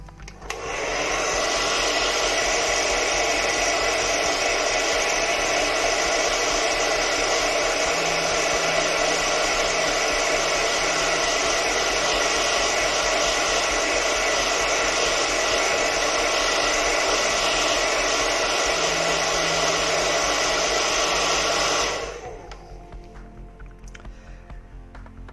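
Steady loud blast of a hair dryer aimed at wood-effect paint on a 1/35 scale Tamiya Sturmgeschütz III model kit, running continuously for over twenty seconds before cutting off abruptly.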